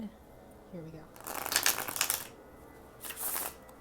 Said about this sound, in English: So as you can see, the shuffling, and I'll do it again.